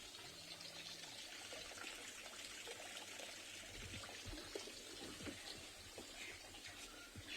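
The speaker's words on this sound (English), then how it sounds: "we've also got always the kind of soft sound of water flowing, which is wonderful" Soft, steady flow of water from ponds at Chitwa Chitwa private game lodge, a continuous faint trickle and wash that stays even throughout, with no voices over it.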